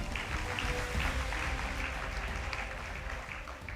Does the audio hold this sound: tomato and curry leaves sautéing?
no